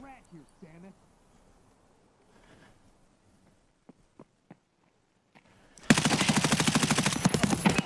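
Automatic gunfire from Escape from Tarkov erupts in a loud, rapid burst of shots lasting about two seconds. Quiet talk and scattered small sounds come before it.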